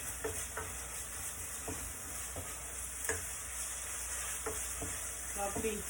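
Garlic and ginger sizzle softly in a pot under a steady frying hiss, with scattered clicks and scrapes as the mixture is stirred, heard up close without speech.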